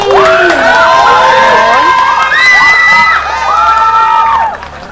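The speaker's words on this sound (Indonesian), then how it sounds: "tepuk tangan sekali lagi" A large audience at an Indonesian cultural talk event cheers loudly, with many high, excited voices whooping and shouting together close by, sustained for about four seconds before dropping away at the end.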